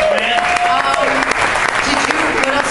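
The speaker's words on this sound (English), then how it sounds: "A round of applause, man." Steady applause for a poet at a literary interview event, continuous clapping with voices talking over it throughout.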